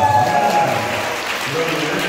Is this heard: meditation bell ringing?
no